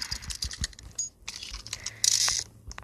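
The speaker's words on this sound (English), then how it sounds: "I was typing." Quick keystrokes on a computer keyboard during a mobile game session, a close run of sharp clacks in uneven bursts with a short pause midway and a louder flurry near the end.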